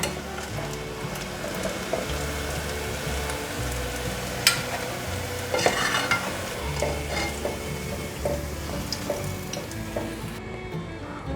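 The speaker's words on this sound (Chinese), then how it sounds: "大概炸一个10秒这样子，就可以关火起锅" Food sizzles in hot oil in a deep wok over high heat in a vegan home kitchen, with steady crackling frying and occasional scraping stirs and clinks of a utensil against the pan, near and continuous, no speech.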